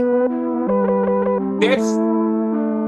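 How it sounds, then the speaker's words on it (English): A synthesizer plays Mellotron-style flute tones, a sustained breathy melody of held pitched notes that step between several pitches, with a brief airy burst near the middle. "That's Melotron flutes."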